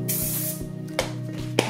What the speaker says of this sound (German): Befette einmal die Pfanne.